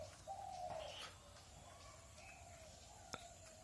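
Pet pigeons coo softly and close by, with a low throaty call near the start and a few faint chirps and a sharp tick later in a quiet space.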